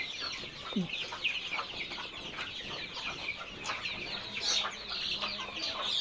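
Tiger chickens about forty days old at a poultry market, a busy chorus of clucks and squawks from many birds nearby, continuous with market bustle behind.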